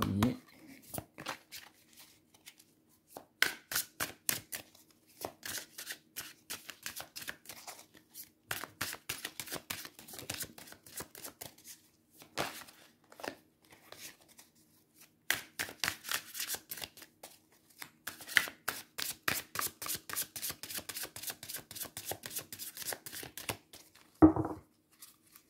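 Tarot cards shuffled by hand in repeated bursts of rapid riffling flutters, close and crisp, with brief pauses between runs and a soft spoken voice around them.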